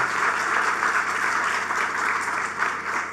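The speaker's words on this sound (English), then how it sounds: "I really think we should give her a round of applause." An audience gives a round of applause for a programme coordinator at the launch of a family-strengthening programme: dense, steady clapping from many hands, loud and sustained without a break.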